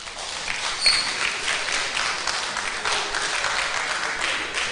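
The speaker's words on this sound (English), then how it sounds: "I want to hear that applause" Applause from a book-launch audience for an autobiography, an even patter of many hands clapping at moderate loudness that holds steady for several seconds without voices.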